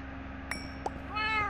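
Cat meowing in the Minecraft video game, one short meow followed by a higher, longer meow, clear and close over a steady low game hum with no talk.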